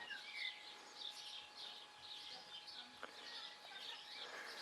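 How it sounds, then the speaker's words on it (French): Birds sing in the trees of a permaculture vegetable garden in May. The chirps and tweets are faint and distant, repeat over a quiet outdoor background and come with a steady high tone. "Dans les arbres, vous aurez les oiseaux."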